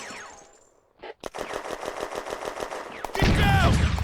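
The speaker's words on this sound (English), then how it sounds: "The tank's machine gun is firing along the front of the French position." A tank's machine gun fires in a long, fast rhythmic burst at a French position in a World War II war game set in June 1940, loud and close, ending in a heavier blast with rumbling echo.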